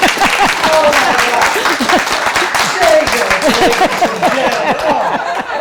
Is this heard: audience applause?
yes